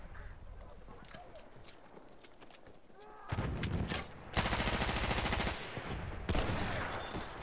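Thompson submachine gun firing in Battlefield 1, heard as loud rapid bursts that start abruptly midway and repeat in several dense volleys after a quieter stretch of background game noise.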